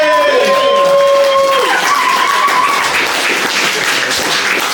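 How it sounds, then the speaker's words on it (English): A live comedy podcast audience applauds and cheers for a comedian, a loud, continuous wash of clapping with whoops and shouting voices layered on top, staying strong throughout. "Everyone give a big round of applause for Sam McVea!"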